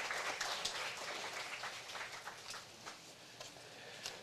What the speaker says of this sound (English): So a big round of applause for that proclamation here on our beautiful island of Hawaii.